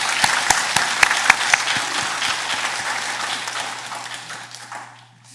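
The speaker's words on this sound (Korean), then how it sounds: "박수 한번 치고 시작하겠습니다." A room of people applauds together to open a three-day community sharing market, sharp claps rising over a steady crowd wash, then thinning and fading out toward the end.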